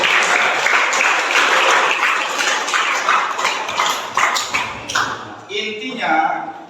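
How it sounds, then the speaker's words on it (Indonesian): An audience applauds steadily for about five seconds, dense and fairly close, before the clapping thins out and a voice begins speaking. "berikan tepuk tangan untuk"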